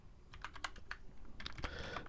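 A computer keyboard typing a terminal command for a Python project: a quick run of close, light key clicks in irregular bursts over a faint steady background hum, no talking.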